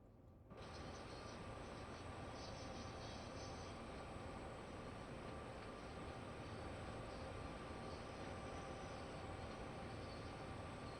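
A 4,000-ton freight train backing up on Sherman Hill in the Train Sim World 2 video game gives off a steady, low rumbling roar with a faint high whine, unbroken and even throughout.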